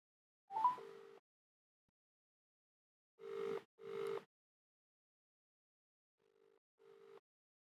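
Phone ringback tone on an outgoing call during a live-streamed game show, with three separate bursts of ringing spaced by silence and fairly quiet overall.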